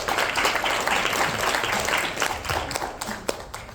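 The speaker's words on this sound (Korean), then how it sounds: "여러분, 큰 박수로 환영해 주시기 바랍니다." A conference audience applauds to welcome a psychiatry professor to the lecture stage, with dense, loud, steady clapping and a few sharper individual claps near the end.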